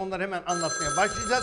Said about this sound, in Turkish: Evet, telefonumuz ne bu telefon?